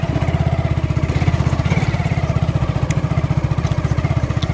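A motorcycle engine runs close and loud with a fast, steady pulsing throb that stays even throughout, with no voices.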